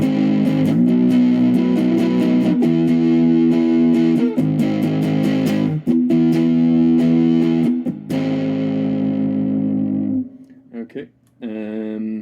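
Heavily distorted electric guitar, a Squier Bullet Mustang through diode distortion, rings out in sustained, buzzing chords with gritty overdrive, then drops to a few quieter plucked notes at the end.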